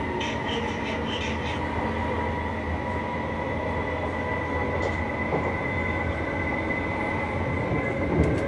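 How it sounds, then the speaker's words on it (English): A train rolls into a station platform, probably on a mainline steam special run, giving a steady loud rumble of wheels and carriages with faint metallic squeals throughout and no clear talk. "Liverpool train come on here as well"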